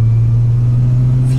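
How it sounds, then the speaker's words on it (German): A VR6 car engine running at 64 degrees as gas is applied, a loud, steady close drone with a strong low hum and little change in pitch. "ich gebe jetzt mal ein bisschen Gas"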